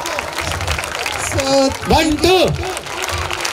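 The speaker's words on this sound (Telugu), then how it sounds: "ఒకసారి అందరు గట్టిగా చప్పట్లు" An audience claps to welcome a guest at a Savitribai Phule Jayanti celebration, a moderate crowd applause with someone speaking over it and cheering voices rising in the middle.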